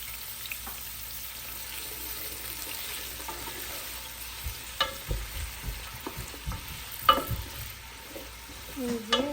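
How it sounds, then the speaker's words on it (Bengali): Onions and green chilies frying in oil for a home-style beef curry, a quiet steady sizzle with scattered stirring scrapes and clinks growing a little louder toward the end. "এরপর দিয়ে দিতেছি পেঁয়াজ বেশি করে এরপর দিয়ে দিতেছি কাঁচামরিচ"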